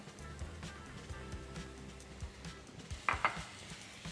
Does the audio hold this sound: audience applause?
no